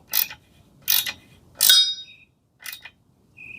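Short ratcheting clicks from tightening a TPMS sensor nut on a 2008 Toyota Sienna wheel, four bursts of metallic ratchet turns spaced under a second apart, close and fairly quiet, with a faint tonal squeak between them.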